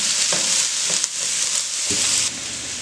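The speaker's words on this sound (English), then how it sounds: "We've been stirring these around for about 5 minutes, getting some color on them onions and softening them up them carrots" Onions and carrots stir-fried in a pan give a steady, loud sizzle, with a few soft scraping stirs and clacks as the vegetables are moved around. No one speaks.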